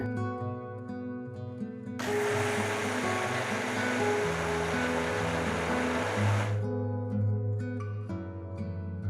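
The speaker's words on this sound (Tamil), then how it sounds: "ஒரு மிக்சர் ஜாரில் பாதி அரிசி பருப்பு பாதி கொஞ்சம் தண்ணி ஊற்றி நல்லா சாஃப்டாக அரைச்சிக்கலாம்" A mixer grinder jar grinds soaked rice and lentils with water, a loud, steady whirring burst of about four and a half seconds over quiet background music.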